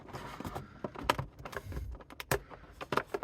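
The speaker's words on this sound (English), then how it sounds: "these scissors are not the greatest at cutting through this." Scissors cut through the stiff card of a toy advent calendar, making close, uneven snips and crunching rustles in a rapid, irregular series with short pauses between them.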